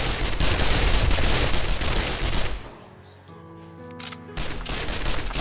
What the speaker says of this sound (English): I'm shooting everything.